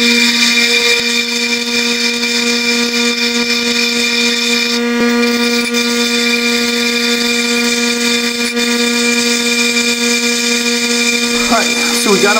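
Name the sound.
grinder grinding chrome coating off steel sockets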